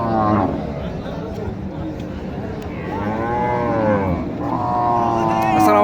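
At a cattle market in Naogaon, a cow gives two long, loud moos one after the other, close by, over constant crowd murmur and background voices.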